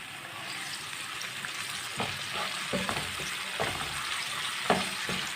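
Tomatoes and green chilies frying in a pan, a continuous hissing sizzle with a series of spoon knocks and scrapes against the pan.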